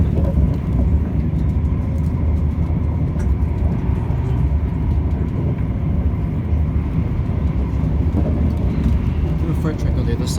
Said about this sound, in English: Horrible growling noise coming from the chassis.